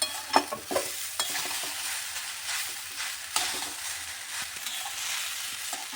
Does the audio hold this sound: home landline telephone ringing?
no